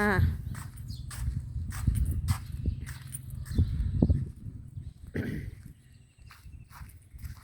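A horse walks nearby, its hooves clip-clopping in an uneven series of sharp knocks, while someone speaks over the steps.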